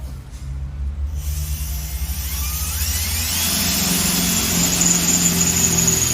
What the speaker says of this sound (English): you're going to drill a hole